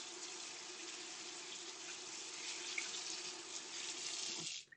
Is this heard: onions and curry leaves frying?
no